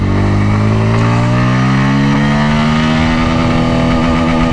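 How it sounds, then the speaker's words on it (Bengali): A Bajaj Pulsar N160 motorcycle engine, recently given an ECU update, revving hard in second gear, a loud, close, continuous whine that climbs steadily in pitch and then holds near the rev limiter. "আমি সেকেন্ড গিয়ারে একটু টপটা মারি"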